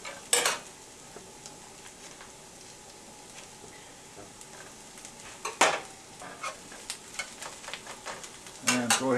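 Butter sizzles softly in a pan of browned, sauteed onions, a quiet steady fry broken by a few louder clinks and scrapes of a utensil against the pan.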